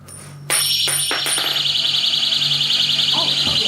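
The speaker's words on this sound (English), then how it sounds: "The alarms in the house just started going off." House alarms start suddenly, a loud shrill continuous electronic tone with a rapid warbling pulse that persists steadily nearby, with a few sharp knocks and faint voices underneath.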